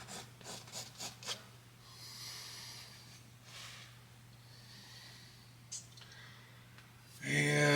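A brush rubs paint onto canvas in Bob Ross style, painting a distant cliff edge: soft, repeated scratchy strokes in short rhythmic bursts, then a longer quiet rubbing passage, with a steady low hum underneath and a voice briefly at the end.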